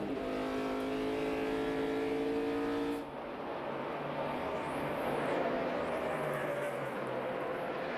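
NASCAR stock cars race at Homestead in the 2009 Ford 400, engines roaring loudly as a pack passes, then a lower wash of distant engine noise continues with crowd ambience.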